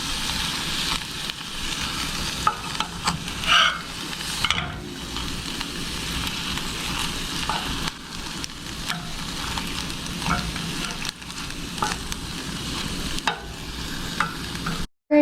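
Pasta and pesto sauce sizzle in a frying pan while being stirred and smeared together, a steady frying hiss with intermittent scraping and clacking of the spoon against the pan.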